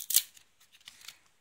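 Stuck Pokemon Topps trading cards peel apart in a short dry ripping rasp at the start, followed by a few fainter papery separations, heard close and alone.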